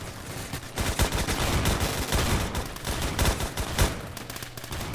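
Rapid gunfire in the Roblox shooter Phantom Forces, with sustained automatic bursts and dense, overlapping shots that continue almost without pause throughout.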